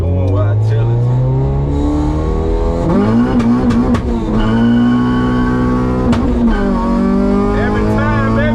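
An all-motor E85 H2B Honda Civic accelerates hard through the gears to the top of fourth, its engine pitch rising in long sweeps between shifts, loud and close, with people talking over it.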